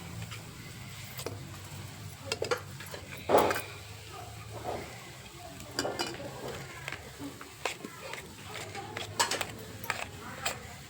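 Roasted eggplant being mashed for Puneri bharit: soft irregular taps and squelchy scrapes of a utensil against a bowl, close and moderate, over a low steady hum, with no talk.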